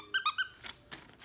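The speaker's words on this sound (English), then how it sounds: "Squeaky toy." A dog's squeaky toy gives three quick, bright squeaks close up, followed by a few fainter, softer squeaks.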